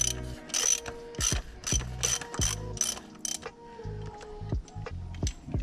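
A ratchet clicks in several quick bursts while snugging the 32 mm oil drain plug on an Audi Q7 during a home oil change, with close, loud, rhythmic pawl ticking and short pauses between strokes.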